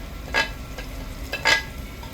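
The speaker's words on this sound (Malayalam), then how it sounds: "മഞ്ഞൾപ്പൊടി, ചേർത്ത് ഇളക്കുകയാണ്." Ginger, garlic, small chillies and curry leaves frying in a pan, with two distinct scraping stirs over a faint steady sizzle, close and fairly quiet.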